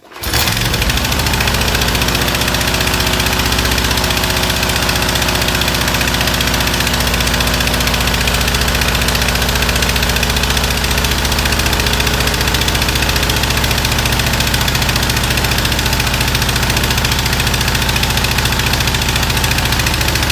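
A small pressure washer engine fires up and settles into a steady, loud idle that runs unbroken for about twenty seconds, with a constant low mechanical hum and no talking.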